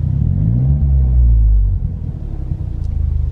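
A car fitted with a Scorpion exhaust revs to about 2,000 rpm, a loud, deep, close rumble that rises and then falls back to a burbling idle, with no talking.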